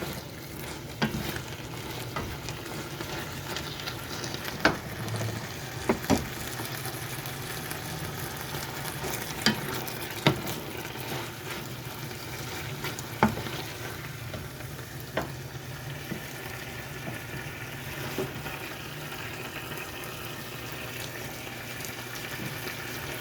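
Adobong sitaw, string beans simmering in a pan, sizzles and bubbles steadily while a utensil clinks and scrapes now and then, with no one talking.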